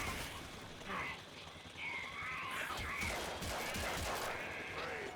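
Enemies fire weapons in Warframe, a steady clatter of rapid mechanical shots and impacts that carries on for several seconds with no clear break.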